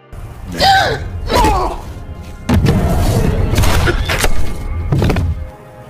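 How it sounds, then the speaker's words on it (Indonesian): In a film scene, heavy booming gunshot-like thuds and impacts hit loudly under a dense dramatic soundtrack, with tonal sweeps and rumbling, several punches spread across the stretch. "Namun malangnya Lazarus langsung menembak Casey dan menculik putrinya."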